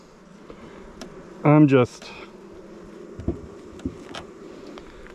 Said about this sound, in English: I gotta get all these bees off.